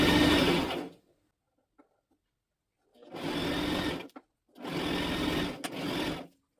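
Home sewing machine stitching bed sheets in three separate bursts of fast motor whirring and needle clatter, close and clear, with near-silent pauses between runs.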